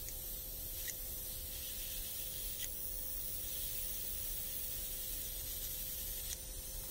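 An airbrush sprays paint at low pressure onto scratched panels of a Golf GTI, a steady soft hiss running continuously with a few brief sharper bursts.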